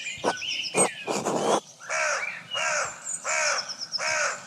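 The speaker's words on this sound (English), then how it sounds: "More crows." Crows caw loudly and close in the video game Pentiment, starting with a few sharp separate calls and then settling into a steady series of harsh, evenly spaced caws.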